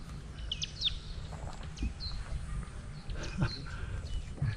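Birds chirping outdoors in Kenya, with scattered short high calls over a steady low ambient rumble, fairly faint.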